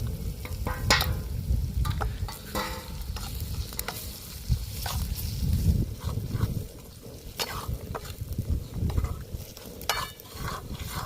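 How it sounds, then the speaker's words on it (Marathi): Spice masala of chilli powder, onion masala, fish masala, garam masala and turmeric cooks in a pan before fish is added, giving a steady loud sizzle with repeated scraping stirs throughout. "मसाले सुद्धा चांगले शिजून झाल्यात"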